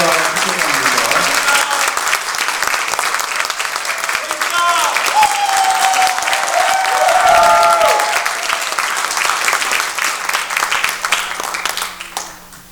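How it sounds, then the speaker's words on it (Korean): Loud, sustained applause from a church congregation at a Korean service installing an elder pastor, a senior pastor and ordaining a minister, with dense clapping throughout, some voices mixed in, and a fade near the end. "우리 다시 한번 박수로 축하하면 좋겠습니다."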